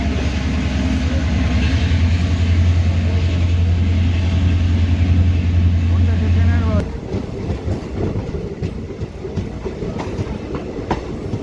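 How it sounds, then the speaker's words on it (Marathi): A Sangli DEMU Express pulls away from Ghatnandur station after a one-minute stop, its diesel-electric engine droning loud and close, then the rumble drops to rolling rail noise and wheel clatter with a voice speaking over it. "1 मिनिटाच्या स्टॉप नंतर निघण्यासाठी तयार आहे आपली सांगली डेमो एक्सप्रेस घाटनांदूर रेल्वे स्टेशनवरून"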